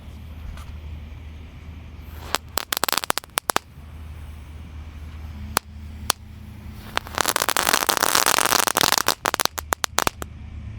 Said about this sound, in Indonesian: Lanjut di sini ada telur dino Pretek, satu pak yang kita susun melingkar guys.